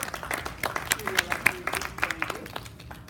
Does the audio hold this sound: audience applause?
yes